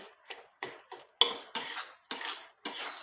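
Cooked red pumpkin with coriander is mixed and mashed with a utensil in a pan, a series of about eight distinct scraping, squishing strokes in steady rhythm, close and fairly clear with no talking.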